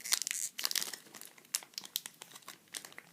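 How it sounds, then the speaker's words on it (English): A Pokémon Plasma Gale booster pack wrapper crinkled and torn at close range, bursts of sharp foil rustling and crackling in uneven spurts with brief pauses, no talking. "If I can get the pack open."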